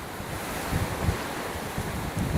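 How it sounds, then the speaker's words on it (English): Hurricane Milton's wind howls and roars steadily through Tampa at landfall, a loud, continuous rushing blast with gusty surges and no voices. "the howling of the wind has been pretty consistent here throughout the night"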